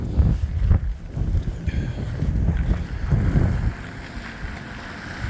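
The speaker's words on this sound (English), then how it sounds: "Let's let these vehicles pass over." Outdoor traffic rumbles past at night, low heavy vehicle noise swelling and fading in waves with wind buffeting the microphone, then easing off toward the end.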